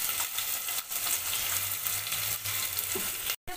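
Onions deep-frying in a pan with a little rock salt added, giving a steady close sizzle and crackle that runs unbroken with no voices, cut briefly by a short gap near the end.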